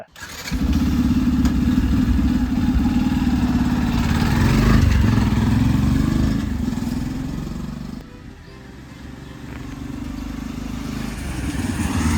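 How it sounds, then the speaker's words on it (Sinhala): A Yamaha FZ-S FI Version 4 motorcycle engine runs close by and revs up, rising in pitch and loudness midway, then settles back to a lower idle. "අපි රෙව් කරද්දි මෙන්න මේ විදිහට"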